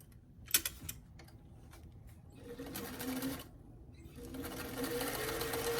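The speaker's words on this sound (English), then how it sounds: "starting at that sleeve edge, I'm just going to sew them together." A sewing machine stitches the side seam of a doll dress in short quiet bursts, running faster and steadier toward the end.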